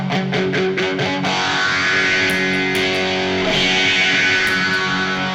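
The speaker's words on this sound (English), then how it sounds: "So you can hear the phaser on." Electric guitar run through a Univox phaser into an amplifier, chords ringing with a sweeping, swirling tone, loud and steady with no talking.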